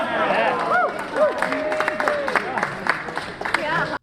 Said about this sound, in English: Sympathy claps.